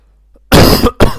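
Two harsh coughs from a scratchy throat close to the mic after a moment of quiet, the first longer and rougher, the second short and abrupt.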